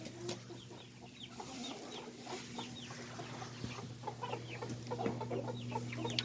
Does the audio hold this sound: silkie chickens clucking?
yes